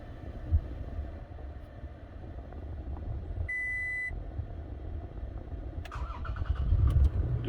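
A Toyota Tacoma engine turning on while parked, with a steady idle rumble, an electronic beep partway through and a few clicks near the end, heard close from inside.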